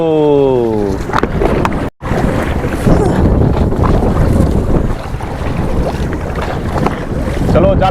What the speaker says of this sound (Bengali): এবার প্রচুর ঢেউ হচ্ছে নৌকা প্রচুর দুলছে